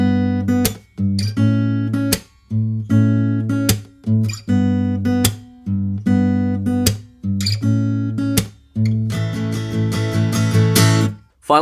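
Acoustic guitar strummed through a second pre-chorus in a steady down-up pattern, loud and close, with sustained chords broken by brief gaps at each chord change and no voices.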